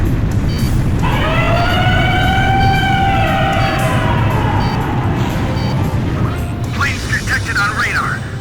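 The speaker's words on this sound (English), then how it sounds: "Sound the air raid sirens." An air raid siren in the video game Ace Combat 5: The Unsung War wails, rising and slowly falling over a steady rumble, with crackly radio-like chatter coming in near the end.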